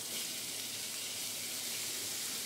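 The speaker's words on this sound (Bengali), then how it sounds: "তেলটা গরম হয়ে গেলে, ফোড়নটার একটু ভাজা গন্ধ বেরোলে, এবার আমি মাংসগুলো দিয়ে দিলাম" Chicken pieces for a curry sizzle steadily in hot oil with spices and capsicum, a continuous close, even frying hiss with no talk.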